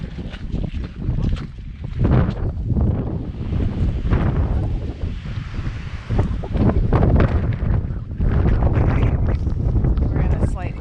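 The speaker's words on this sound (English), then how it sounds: "You can hear the wind whipping through the trees so loudly." Strong wind roars through trees along the West Highland Way in a sheltered lower area, a loud, gusty rush that buffets the microphone continuously for the whole stretch.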